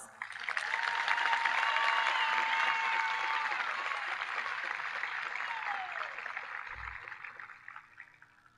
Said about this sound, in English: Please join me in recognizing our guests with a round of applause.